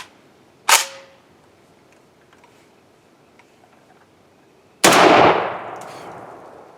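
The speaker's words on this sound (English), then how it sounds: "Jay, you can shoot the Chinese now. MAK-90" Two loud gunshots from a Chinese milled MAK-90 rifle at an outdoor range, each a sharp blast with a ringing decay, spaced about four seconds apart with quiet between.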